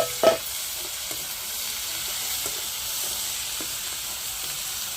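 Cooked rice with lemon is stirred in a pan over a steady sizzle of frying, a soft scrape or two near the start, then a continuous close hiss with no talk.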